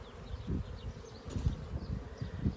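Honeybees buzzing steadily at an open beehive, with a dense, close drone that pulses slightly as individual bees pass near.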